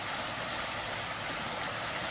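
A creek flowing steadily nearby, a constant loud rush and babble of water without pauses or voices.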